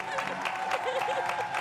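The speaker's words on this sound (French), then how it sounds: "Franchement, on applaudit pour ça." A short burst of audience applause rises at a live show, brief and moderately loud, with a voice speaking over the clapping.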